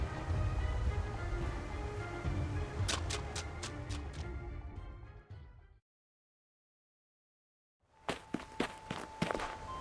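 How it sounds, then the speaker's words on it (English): Footsteps in the video game Reverse: 1999, a short run of distinct, evenly spaced steps over a low ambient bed, then full silence, then another cluster of crisp steps. "Please listen carefully to my footsteps"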